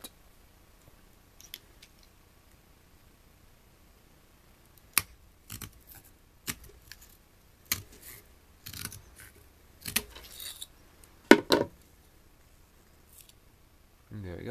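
Scissors snip through the gold finger contacts of RAM sticks and expansion cards in a series of sharp, close crunching cuts, irregular and quiet between strokes.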